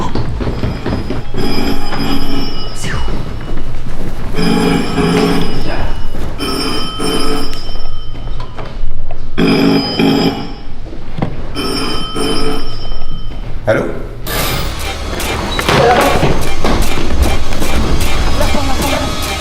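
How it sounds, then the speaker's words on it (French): A telephone rings indoors in a house, repeated bursts of shrill electronic ringing in a steady rhythm, loud and close, with a busier noisy passage near the end. "le téléphone il sonne"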